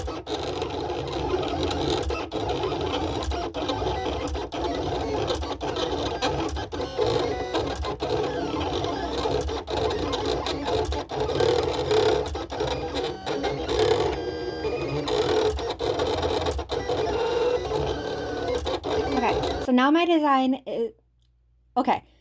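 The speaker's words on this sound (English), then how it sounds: "So then this is what your machine will look like as it is cutting." A Silhouette cutting machine cuts a design, sending out a continuous busy mechanical whirring and clicking close up for about twenty seconds, then stopping with a few short motor sweeps as it finishes.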